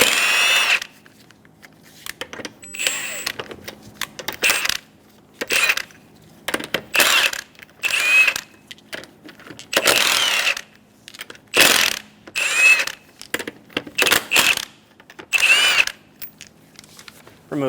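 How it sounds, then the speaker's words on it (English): A power impact tool with a 19mm socket spins off the five lug nuts on a 2003-2007 Honda Accord. Repeated short, sharp bursts stop and start in a quick irregular rhythm, with brief quiet gaps between them. "remove the 5 lug nuts"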